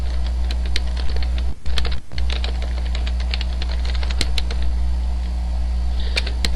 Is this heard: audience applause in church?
no